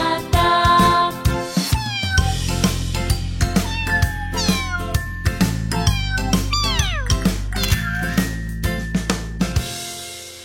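Kittens meowing in a French children's song, a quick run of bright, repeated high meows in rhythm over a backing tune with steady beats.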